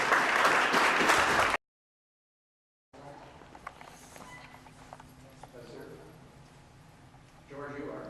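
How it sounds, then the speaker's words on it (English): A brief, loud burst of audience applause at a community gathering in Fredericton cuts off abruptly, followed by silence and then quieter room noise with faint voices. "for a good round of applause to the next gentleman"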